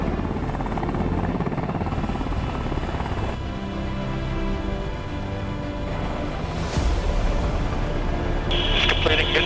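A Black Hawk helicopter lifts off autonomously under tablet control, its engine and rotors making a loud, steady roaring whine that swells slightly as it rises, with a voice faintly over the noise.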